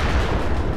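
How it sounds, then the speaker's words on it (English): An explosion goes off during a U.S. Army Rangers combat mission, a loud, dense, rumbling blast that fills a brief moment with no voices. "And then this, explosion goes off."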